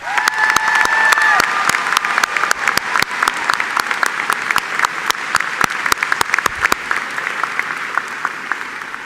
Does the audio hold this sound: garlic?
no